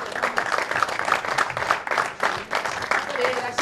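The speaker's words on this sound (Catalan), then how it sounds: "Un fort aplaudiment, sisplau." Steady applause from an audience at a wine and literature event in Catalonia, dense clapping that holds for the whole stretch with some crowd murmur mixed in.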